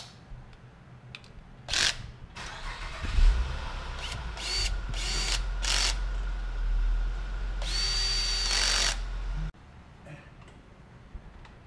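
A power tool, likely a drill or impact driver, tightens bolts on a car bellhousing during a rear main seal and ZR1 clutch job, running in several short bursts and one longer whine over a steady low hum.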